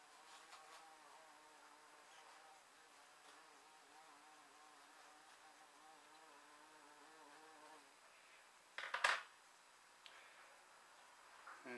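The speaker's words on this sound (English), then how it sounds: "That bee will find his way out in a minute." A bee buzzes steadily inside a garage workshop where a Jaguar IRS driveshaft is being modified. Its faint, wavering drone lasts about eight seconds, then a sharp metallic clank breaks in.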